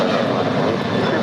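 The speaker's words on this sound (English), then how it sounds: "That was American 669 departing to Chicago. It's a 10-year-old 737-800." A ten-year-old American Airlines Boeing 737-800 departs LAX, its jet engines a loud, broad, continuous roar across the whole short moment.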